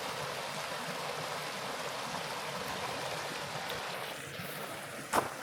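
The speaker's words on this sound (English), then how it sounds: "I found a bridge where the water is at. Little stream down here." A small stream flowing under a bridge in the Mower Basin mountain area of West Virginia, a steady broadband rush of water heard up close and alone, with a brief knock near the end.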